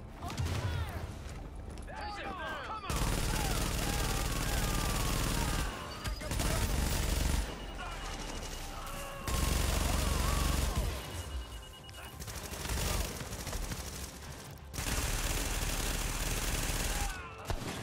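Rapid automatic gunfire bursts in a Division shooter video game, loud and sustained in long stretches with short gaps, while players talk over it.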